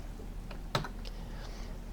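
Someone presses the Escape key on a computer keyboard, giving one sharp, close click, with a couple of fainter taps around it over a low steady hum.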